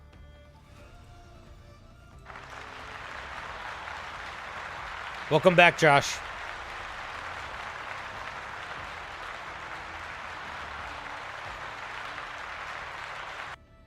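An audience claps for a D&D homebrew review guest: steady, dense applause starting after a couple of seconds and holding for over ten, close and full, with a brief burst of louder voices and cheering partway through. Voices speak over the start.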